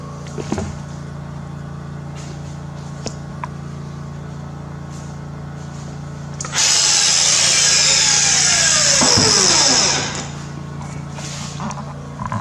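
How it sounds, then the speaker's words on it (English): A grinding wheel sharpens a lawn mower blade for a Bad Boy Maverick, with a harsh, bright scraping burst of about three seconds over a steady background motor hum. "tilt your wheel according to whatever angle you need to make sure that it's removing that rust"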